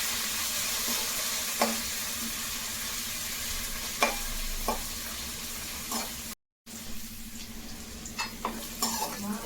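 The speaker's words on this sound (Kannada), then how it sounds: "ಈರುಳ್ಳಿ ಜೊತೆಲ್ಲ ಇತ್ತಬೇಳೆ ಹಾಕಿದ್ದೀವಲ್ಲ, ಇವಾಗ ಸ್ವಲ್ಪ ಫ್ರೈ ಮಾಡ್ತಾಯಿದ್ದೀನಿ." Chopped onions and chana dal fry in a pan with a steady sizzle. A spoon stirs and scrapes against the metal now and then, with one brief moment of silence.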